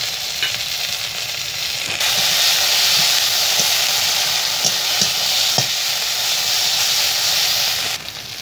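Onion, ginger and green chili paste frying in a pan with a steady loud sizzle and hiss, brief spoon clicks and scrapes of stirring over it, and no talk.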